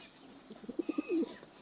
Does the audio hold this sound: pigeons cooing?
yes